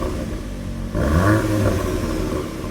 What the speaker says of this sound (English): And that of Krapovich exhaust sounds a little bit like this.